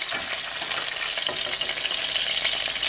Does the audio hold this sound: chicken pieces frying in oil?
yes